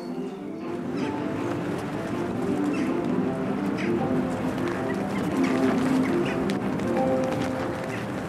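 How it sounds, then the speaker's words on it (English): Rooks call in a busy colony while building nests in a town centre, steady overlapping harsh caws and squawks under constant background noise, no voices. "These are rooks, and they're building nests in the centre of Newtown"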